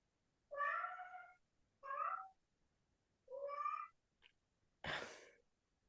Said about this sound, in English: That cat is very tuned in.